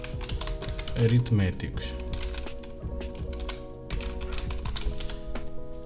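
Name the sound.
typing a code comment on a computer keyboard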